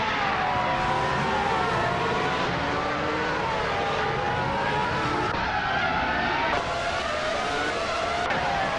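Classic 1998 Ferrari F300 race cars scream off the start of a video game race, with high engines whining up through the gears in overlapping layers and short tire squeals, loud and constant.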